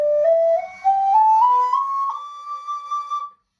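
An Irish whistle climbing step by step into its upper range, clear pure notes rising in pitch with small breathy articulations between them, played solo and close before stopping abruptly.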